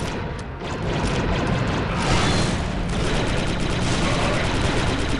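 Dense, continuous gunfire and blaster-type shots from the Star Wars Republic Commando shooter game, loud and sustained with crashing impacts throughout, a voice speaking over the battle.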